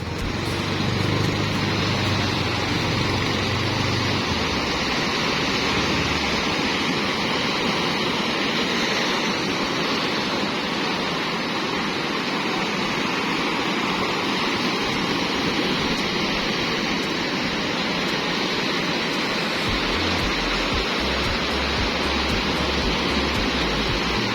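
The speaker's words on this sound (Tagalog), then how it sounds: "sa dagat na may alon at medyo may agos" Steady rushing water noise, continuous and loud, like waves and current churning close by, with no voices.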